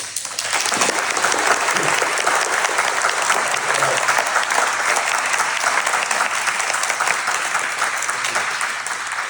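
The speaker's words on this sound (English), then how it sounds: "I would love for everyone to give you a round of applause." A crowd at a Los Angeles city commission meeting applauding steadily, dense clapping that starts quickly and holds at an even, loud level throughout.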